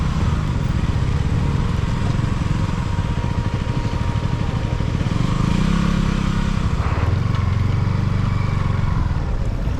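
A motorcycle engine runs close by on arrival, with a steady, loud mid-pitched drone whose tone rises and shifts near the end as it is throttled and settles. No one speaks.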